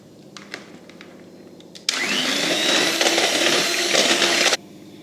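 Crepe batter being mixed with a spoonful of melted butter by an electric mixer, a loud steady whirring drone that starts abruptly, runs for a few seconds, then cuts off.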